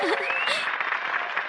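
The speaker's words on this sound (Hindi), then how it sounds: "इनके लिए तालियां बजाइए।" Brief applause from a crowd follows a dance in a Hindi-dubbed Shinchan cartoon episode, with a cartoon voice sliding in pitch briefly over the clapping.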